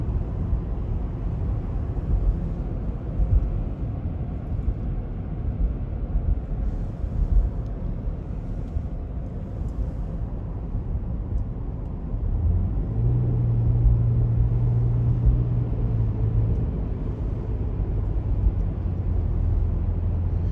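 A car drives along a snow-free road on a very cold winter day in Minnesota, giving a steady, close interior rumble of engine and tyres that runs unbroken throughout, with no talk.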